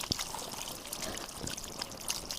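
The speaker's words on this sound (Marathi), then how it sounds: "इथं नळाला पाणी चालू आहे त्यामुळं मी इथं ही धुवून काढते" Tap water runs steadily while leaves that exude a milky sap are rinsed under it, a continuous close splashing and trickling.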